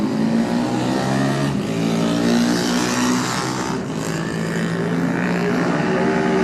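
Michael Rutter's Sealy superbike pulls away from the start at the 2019 Classic TT, a loud, steady engine roar rising in pitch as it accelerates, with continuous strong engine noise throughout.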